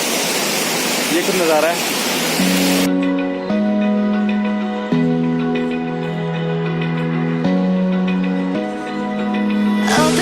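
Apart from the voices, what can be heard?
Jogini waterfall in Kullu-Manali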